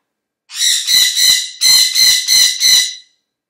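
A pet bird gives seven loud, harsh squawks in quick succession, close and alone, with only a brief pause partway through.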